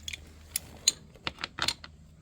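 10mm bolts are undone on a 2022 Royal Enfield Classic 350, giving a few sparse, sharp metallic clicks and ratchet ticks close by in an otherwise quiet space, with no talk.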